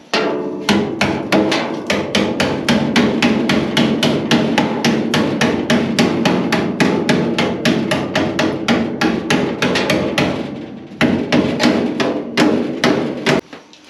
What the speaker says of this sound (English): I have to hammer this up